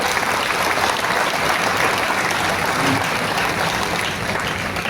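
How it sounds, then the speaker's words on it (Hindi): Loud, sustained applause from an audience at an election rally held before a nomination filing in Beri constituency, dense steady clapping that carries unbroken through the whole stretch. "आपसे प्रार्थना करना चाहूंगा कि जोरदार ताली बजा करके सभी का स्वागत करें"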